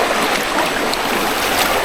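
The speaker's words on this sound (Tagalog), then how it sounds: "Ang grabe yung tubig." A strong stream rushes at the spot where people are about to wade across it, a loud, close and unbroken roar of water with no talk.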